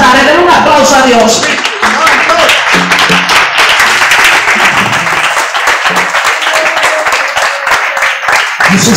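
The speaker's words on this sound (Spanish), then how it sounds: "denle un aplauso a Dios." A church congregation at an evangelical service applauds, steady loud clapping building over several seconds, with a preacher's voice and music audible underneath at the start.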